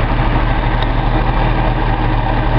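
A Datsun L28 EFI engine fitted with a color tune plug runs steadily, giving a continuous low rumbling drone with a brief click near the start.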